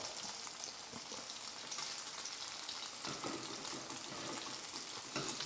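Hash browns about 10 mm thick frying in a pan, a dense close crackling sizzle that holds steady throughout with a slight surge partway through, no voices.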